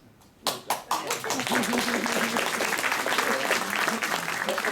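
Applause from a seated audience rises abruptly after a few sharp opening claps and continues as a steady, dense patter of many hands throughout, with speech-like tones faintly mixed in.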